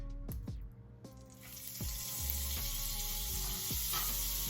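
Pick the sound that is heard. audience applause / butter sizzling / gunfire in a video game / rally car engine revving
butter sizzling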